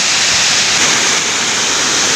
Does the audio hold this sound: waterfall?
yes